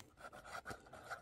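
A vintage Columbus 50 fountain pen nib scratches across paper while writing large, a dry rasping rub in short rhythmic strokes, quiet and close with no voices.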